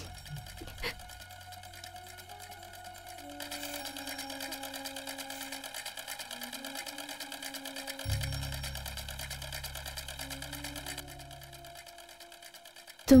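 A sewing machine runs in a quiet room with a steady, rapid mechanical whir and clatter, faint and even, with a soft hum underneath and a sharp click at the end.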